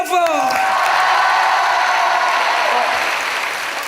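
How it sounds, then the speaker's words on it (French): Theatre audience at a comedy show applauding and cheering, a loud sustained wall of clapping with whoops and a voice rising at the start, holding steady before slowly easing. "on l'applaudit bien fort."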